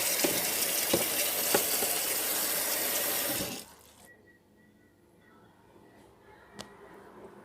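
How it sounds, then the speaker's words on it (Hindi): Cold water runs from a tap over boiled chicken noodles in a strainer, a steady close splashing gush for about three and a half seconds that then stops, leaving faint drips and quiet room noise. "अब इसके ऊपर ठंडा पानी डालेंगे।"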